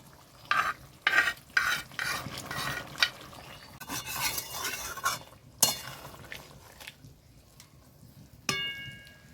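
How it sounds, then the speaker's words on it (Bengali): Fried onion, tomato and green chili are stirred into chicken do pyaza in a pan, with clattering utensil scrapes and clinks over a low sizzle, in irregular close bursts. "তো আমি তখন যে ভেজে রেখেছিলাম আমার এই পেঁয়াজ এবং টমেটো এবং কাঁচা লঙ্কা, এটা এখন আমি দিয়ে দেবো।"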